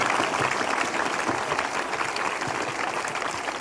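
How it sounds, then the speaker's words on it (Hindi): A church congregation at a Prophet Bajinder Singh Ministry prayer service claps continuously, a dense, even wash of applause filling the room without a break. "धन्यवाद तालियों के साथ सच्चे मन से"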